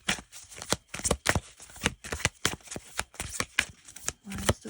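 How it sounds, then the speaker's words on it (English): Tarot cards being shuffled in quick riffling bursts, a steady run of crisp flutters and slaps close to the microphone, with no talking. "while I'm shuffling for the Wheel"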